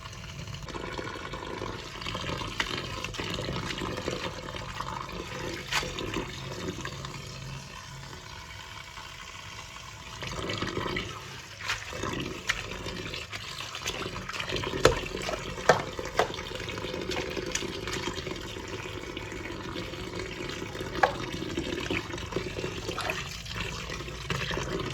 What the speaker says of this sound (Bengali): আবারও নতুন জল দিয়ে মেথি গাছগুলো ভালোভাবে ধুয়ে নেব।